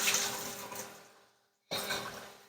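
Rinse water from a jar of sprouting seeds pours out in a steady splashing stream that tapers off, then a second pour follows after a brief silent gap.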